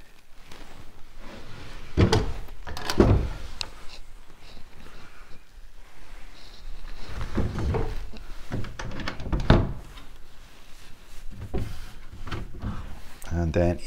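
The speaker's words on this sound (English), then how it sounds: "as you can see, the drawers are running smoothly" Drawers of a large antique pine dresser from about 1900, in bare wood, slide open and shut with several soft thunks and wooden rumbles, a few distinct knocks spread through the stretch alongside a voice speaking.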